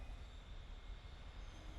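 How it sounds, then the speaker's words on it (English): A Hector Rail freight train pulls into a freight depot near Stockholm, its steady low rumble and rolling wheel noise heard faintly from a distance without a break. "watch this Hector-rail freight train pull into the nearby freight depot for a crew change"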